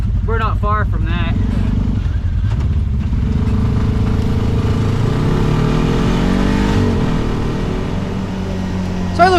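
An off-road buggy engine runs and revs on a trail ride, a loud rough rumble that swells and settles under people talking nearby.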